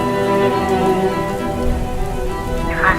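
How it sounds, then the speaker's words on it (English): Rain falling steadily during a mountain trek, a continuous near hiss of drops on surfaces that mixes with sustained music tones, with no voices. "You think a little rain could stop us?"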